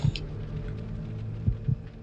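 Low, muffled heartbeat thuds in Resident Evil Code: Veronica X, a few slow irregular pulses over a dull ambient hum, with no voices.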